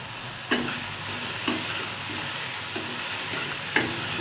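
Peanuts frying in oil for upma: a constant bright sizzle with periodic scraping stirs and a few crisp spatula knocks spaced about a second apart, close and alone.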